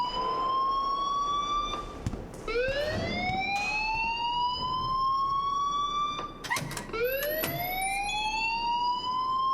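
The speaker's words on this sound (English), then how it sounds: "please turn off that alarm since that's your job" An alarm in the Life is Strange video game wails loudly in rising, sweeping siren tones that repeat several times, continuous and alone without speech.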